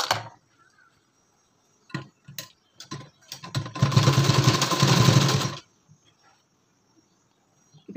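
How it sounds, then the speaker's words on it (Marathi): Sewing machine running a single fitting seam on a blouse: a few short ticks and clicks, then a close, steady burst of stitching lasting about two seconds before stopping. "आता आपण हे फिटिंगची एक शिलाई देऊन घेऊ."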